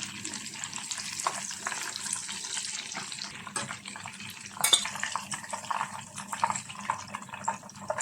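Shahi chicken rolls frying golden brown in hot oil give off a soft, continuous sizzling hiss with small crackles and an occasional scrape, steady and fairly quiet throughout.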